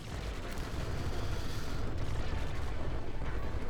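A rocket launches in the Switch tower defense game OTTTD (Over The Top Tower Defense), a loud, continuous roaring rumble of blast-like noise sustained throughout with no speech.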